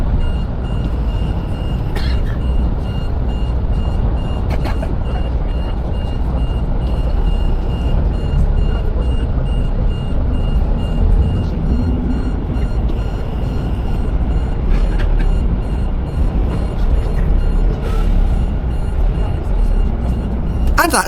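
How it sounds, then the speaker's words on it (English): A truck trailer passes at the Santander ferry port in Spain, heard as a loud, steady low engine rumble and road roar that holds for about twenty seconds, with faint reversing beeps in the background. "The excitement increases of arriving into Spain as another trailer passes us by."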